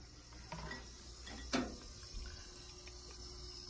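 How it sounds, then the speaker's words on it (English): Water from a BRS 75 GPD RO/DI unit runs into a bucket as a faint, steady hiss, with one brief sharper splash partway through. "We got water."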